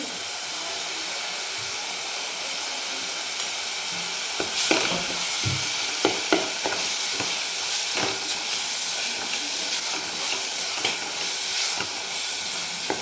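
Ginger garlic paste sautés in a hot pan with a steady, close hiss and sizzle, broken by occasional sharp clicks and scrapes of stirring, with no talk.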